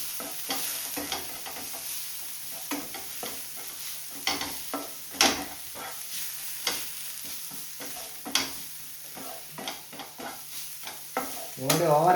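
Chili powder stirred into a spicy egg roll filling in a frying pan brings repeated irregular scraping and clattering spoon strokes over a soft sizzle, close and clear with no talk.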